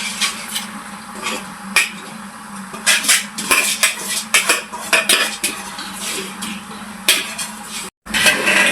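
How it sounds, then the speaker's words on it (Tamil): Soaked rice tipped into a pot of boiling water while cooking chicken biryani, with clattering metal pot and utensil knocks and scrapes, close and fairly loud, in short bursts with a brief pause near the end. "இப்போ நம்ம அரிசி போட்டுக்கலாம்"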